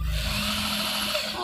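An electric hand drill, its switch set to reverse, runs continuously at steady speed, producing a loud, close whirring motor whine with a constant hum beneath and no breaks.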